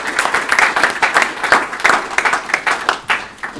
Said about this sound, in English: a round of applause too